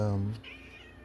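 A house cat gives a single loud, close meow with clear harmonic tones, then a short thinner mewing tail fading into quiet room noise.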